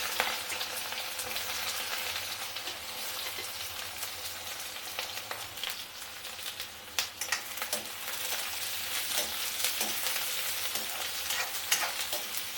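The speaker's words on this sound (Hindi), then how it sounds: "अब हमारा तेल गरम हो गया। अब मैं डाल देती हूँ इसमें पहले प्याज" Chopped onion fries in hot oil for a quick capsicum vegetable dish, a bright, steady close sizzle with occasional crackles and stirring scrapes throughout, no voices.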